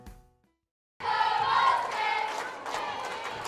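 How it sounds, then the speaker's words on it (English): A junior high volleyball tournament crowd roars into a loud, sustained cheer that starts abruptly after a brief near-silence and stays dense with overlapping shouts and voices. "The crowd is getting into it"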